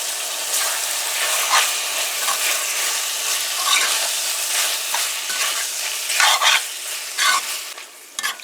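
Chicken gizzards and liver fry in a pan, a steady sizzle with scraping stir strokes that grow louder and more frequent toward the end.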